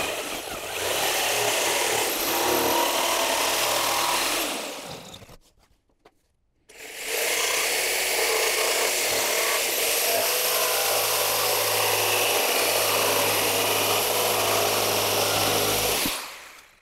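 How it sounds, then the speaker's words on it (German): A jigsaw buzzes loudly through beech plywood in two long, steady cuts separated by a short pause, close and harsh with no talking. "Und jetzt säge ich das Ganze mit der Stichsäge aus."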